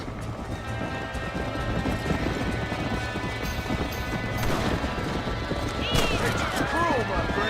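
A horse gallops in the western game Red Dead Redemption, with steady hoofbeats thudding continuously in the foreground while someone talks over them and birds or animals call near the end.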